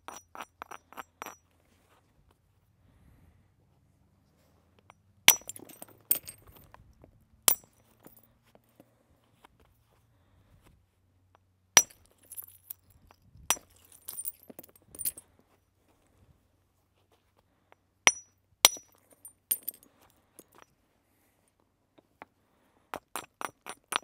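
Sharp, bright clinks of stone striking stone ring out sporadically as flakes are knapped off a replica flint tranchet axehead, scattered single hits and short clusters separated by quiet gaps.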